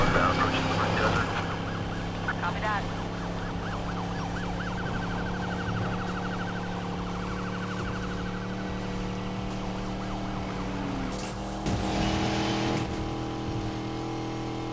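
A Dodge Charger Runner Spec in Need for Speed Payback roars along under steady engine drone, with a brief siren-like wail early on and a louder surge near the end; no speech.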